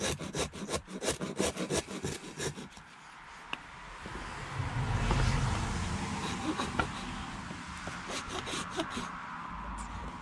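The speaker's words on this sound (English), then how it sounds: "I'm just using my rasp to tidy up any of the rough edges and splintery bits" A wood rasp files rough edges on a wooden toy axe handle: rhythmic rough scraping strokes, fast and rasping at first, then pausing amid a low rumble before the scraping resumes more lightly.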